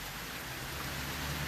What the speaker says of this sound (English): I would say it's full-on raining now. Rain coming down, splattering